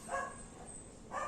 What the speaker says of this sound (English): the barking of the dog